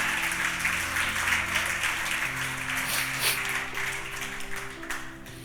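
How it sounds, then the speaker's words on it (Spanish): Congregation applause fills a Spanish-language church sermon, a steady, dense wash of clapping that holds for several seconds with a faint musical tone sustained underneath. "Dese un aplauso, ahora es para usted esto."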